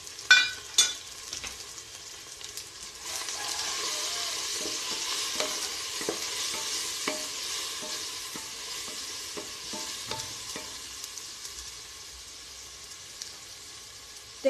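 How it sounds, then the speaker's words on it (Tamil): Vegetables sauté with masala in a pan for sambar rice, a steady close sizzle and fry broken by occasional stirring scrapes and clinks of the spoon against the pan. "காய் வதங்கிடுச்சு, அது கூட மசாலாவும் போட்டுக்கலாம்."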